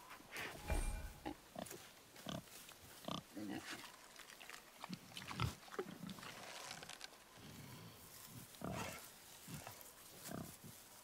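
A wild boar grunting in the video game God of War, rough snorting grunts and growls in short irregular bursts, fairly close, with quieter gaps between.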